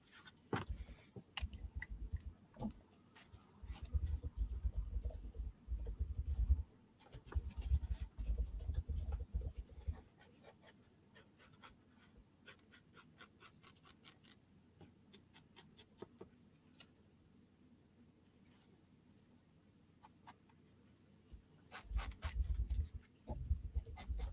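Quiet keyboard typing, a scatter of light rapid clicks that come in uneven bursts, with low rustling and handling noise underneath, heard close but faint.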